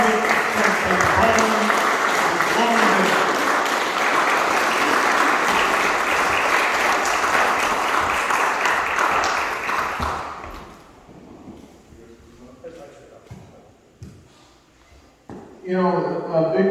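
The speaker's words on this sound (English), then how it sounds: "we have a round of applause for the Chamber of Commerce for sponsoring the event" An audience applauds the Chamber of Commerce as event sponsor at a Sackets Harbor meet-the-candidates gathering, loud sustained clapping for about ten seconds that cuts off into room noise, and then a voice speaks.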